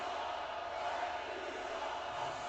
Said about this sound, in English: And the crowd's letting them hear it.